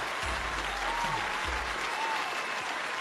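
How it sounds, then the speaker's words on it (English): An audience gives a round of applause, a dense, steady crackle of many hands clapping that carries evenly throughout, with low thumping booms underneath. "Round of applause first."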